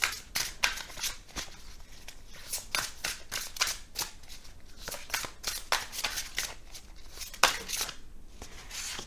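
Tarot cards being shuffled by hand, a steady run of crisp riffling and flicking bursts repeating close and clear with no talk over them.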